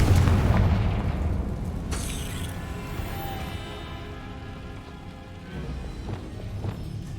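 In the Hogwarts Legacy video game, a Confringo blasting spell goes off with a loud opening boom, then a long, fading rumble and debris-like crackle, with a second muffled thud near the end.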